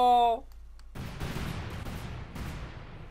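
Cluster bombs and gunfire in a Company of Heroes 2 battle between Wehrmacht and US forces: a dense, ongoing rumble of blasts and rattling shots. A short voiced burst comes first, then the barrage rolls on with steady loudness.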